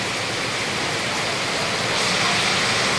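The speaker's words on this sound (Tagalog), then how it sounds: "Oh, grabe, napakalakas ng ulan." Very heavy rain pours steadily and loudly outdoors near a kitchen where monggo is being cooked, a dense continuous roar without letup.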